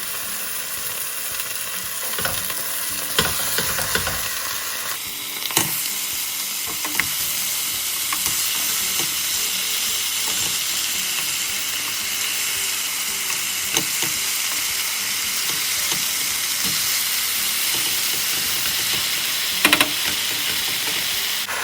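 Eight bone-in chicken thighs sizzle and spit steadily in a hot pan, a dense continuous frying hiss with occasional louder crackles and clinks.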